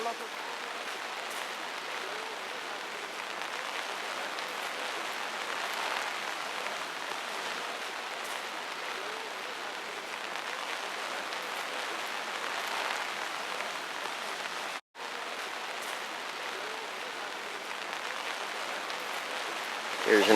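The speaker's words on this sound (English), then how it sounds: "And it started to rain" Steady, dense hiss of rain falling at a large dahlia garden in Scandinavia, broad and continuous with no breaks except a brief dropout near the end.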